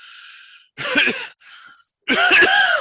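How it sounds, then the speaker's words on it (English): Two harsh, throaty COVID coughs burst out close by, separated by brief pauses and a short breathy sound. "that's that COVID cough"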